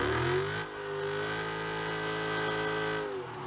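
A naturally aspirated 6.4-liter V8 in a Dodge Challenger Scat Pack revs up and holds a deep, steady roar before the pitch drops away, loud and close with no talk over it.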